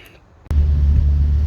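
A 1972 Alfa Romeo Giulia 1300 Junior starts moving on a test drive after a wheel bearing replacement, a sudden onset of steady low engine rumble and road noise that stays loud and close throughout.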